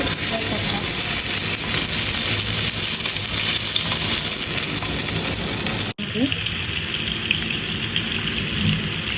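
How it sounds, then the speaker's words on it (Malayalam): Chicken sizzles loudly and steadily in hot coconut oil in a pan, a dense crackling hiss that briefly cuts out partway through, then carries on. "നമ്മൾ ചിക്കൻ പൊരിക്കാൻ വെച്ചിട്ടുണ്ട്"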